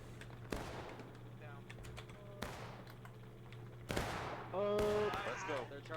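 Civil War video game battle gunfire, several sharp rifle shots and volleys cracking out at irregular intervals against a low steady hum, with a voice talking over the shooting.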